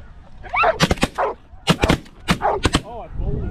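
Several sharp, loud shotgun blasts fired at geese during a hunt in extreme wind, coming in quick clusters of two and three, with honking geese calling faintly around them.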